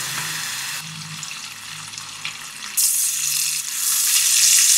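Bacon frying in a pan gives a steady sizzle that swells into a louder, brighter hiss partway through, with no voices.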